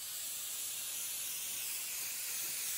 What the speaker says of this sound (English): And spray away.